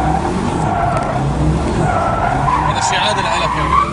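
A car drifts with its tires skidding, a long continuous screech under engine noise. It is loud and close throughout, with voices talking over it.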